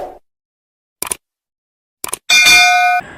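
A notification bell effect rings out as a bright, sustained ding with shimmering overtones lasting about a second, preceded by two short clanging taps, alone and fairly loud.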